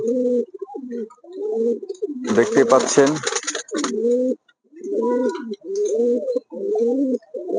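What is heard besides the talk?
mukki pigeons cooing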